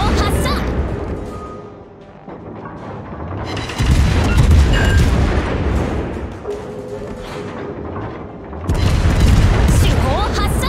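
Warship guns booming in the naval combat game World of Warships during a clan battle, heavy deep blasts arriving in a few surges over a rumbling battle backdrop, with a voice briefly speaking in between.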